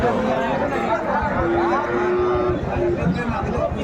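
Cattle low amid a busy livestock market selling bull calves, with a long steady moo over crowd chatter and people talking in the background.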